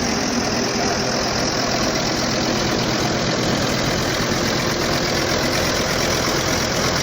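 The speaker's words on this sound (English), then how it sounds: "Nice generator." A fairground generator engine runs steadily and loudly close by, a constant droning hum with no breaks.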